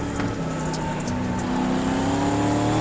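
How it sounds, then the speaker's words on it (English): Race car engine in the iRacing game, Pro 2 Lite class, held near the rev limiter under full throttle, a loud sustained whining drone with rising harmonics that continues without a break. "Through the S's here, just pounding that throttle to the floor, just about hitting the rev limiter chip."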